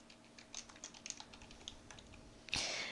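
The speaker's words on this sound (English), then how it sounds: "Type a part of the question in the text field," Fingers tap out a quick, irregular run of keystrokes on a computer keyboard, close and fairly quiet, ending with a brief louder clatter.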